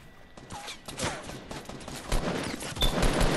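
Rapid gunfire crackles in a multiplayer shooter video game, with dense overlapping shots and pops building in intensity over a few seconds.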